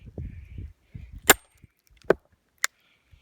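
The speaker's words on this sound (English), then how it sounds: "Hear it starting to crack and go down the side like that." A hammer drives a steel splitting wedge into a firewood log: three sharp, loud strikes ring out with splintering cracks, after a low, muffled rumble of handling at the start.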